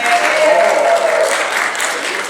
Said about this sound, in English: Cheap applause.